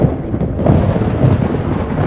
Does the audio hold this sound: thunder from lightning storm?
yes